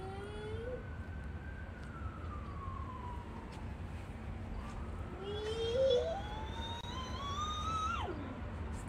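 An ambulance siren passes by, its wailing tone sliding up and down at moderate distance over a steady low rumble of traffic, then dropping sharply in pitch near the end as it moves away.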